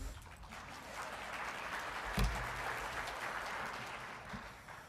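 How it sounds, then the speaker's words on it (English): Audience applause at a government briefing on Korea and the Cold War, a faint, distant and steady spread of clapping with one brief thump midway. "So that does deserve one more round of applause."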